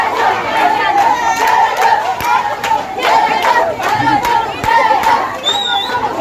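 A loud crowd cheers and shouts in praise of a security operation in a Senegalese neighbourhood, dense overlapping voices and chatter close by in rolling waves, with a few whistles near the end.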